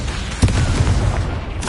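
A heavy, booming fire-spell blast in the Hogwarts video game, a dense rumbling burst that fills the clip with sustained low roar and a sharper thump near the start.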